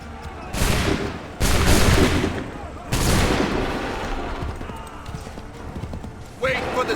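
Musket volley gunfire in a battle from Assassin's Creed III: loud bursts of several shots in quick succession over galloping horse clip-clop and shouting voices, with a final burst near the end.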